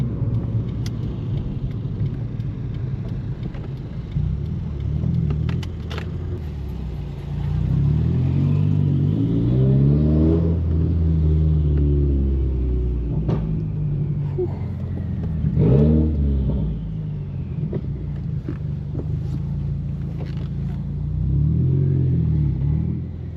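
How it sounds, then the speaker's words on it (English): A tuned 2016 Subaru WRX with a fresh downpipe, tuned for 90 octane, revs loudly from inside the cabin; the engine rumbles steadily, then surges in repeated rising pulls with turbo spool, backing off and climbing again, no talking. "My favorite part is just listening to my turbo spool"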